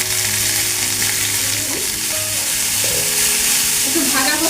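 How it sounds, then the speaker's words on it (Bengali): Mango pieces fry in oil with salt for a mango chutney, making a loud, continuous sizzle with stirring scrapes close by. It runs steadily throughout with no voices. "আমগুলো একটু তেলে নাড়াচাড়া করে নেব। নাড়াচাড়া করতে করতে দিয়ে দেবো একটু লবণ"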